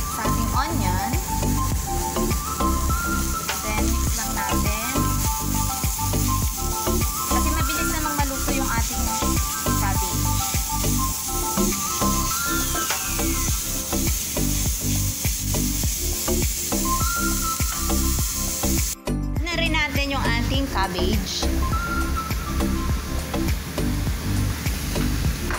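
Carrots, spring onion and bell pepper sizzle loudly in a hot pan while being stirred, a continuous frying hiss with scraping clatter throughout and a brief break near the end.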